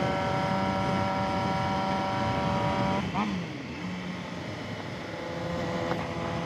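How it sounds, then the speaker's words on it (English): Loud motorcycle exhaust rumbles steadily on a ride, a close, droning engine note with tonal whine that shifts pitch around the midpoint, with wind noise throughout. "Y'all can't hear me over this loud ass exhaust"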